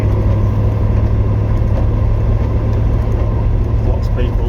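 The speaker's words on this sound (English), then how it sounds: "this is driving a classic car in the rain" A Triumph Stag classic car driving in the rain, with a loud, steady low engine and road rumble and a hiss of wet tyres and rain throughout, with no break.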